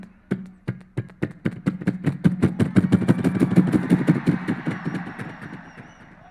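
A human voice imitates a Bullet motorcycle kick-starting, with a rapid train of sharp thumping pulses that build into a loud engine-like chug, peak, then fade away, performed alone and close.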